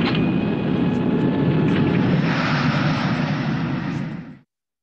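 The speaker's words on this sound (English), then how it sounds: "The flare is now beginning and we should very shortly be touching down round about now." Inside a 1960s airliner landing itself on autoland, a loud, steady roar of engine and airflow noise fills the cabin through the flare and touchdown, then cuts off abruptly.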